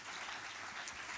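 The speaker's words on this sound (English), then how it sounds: "Clap your hands for the Lord." Church congregation clapping hands during a worship service, a brief soft wash of many hands clapping together, fairly distant and steady, with no talk over it.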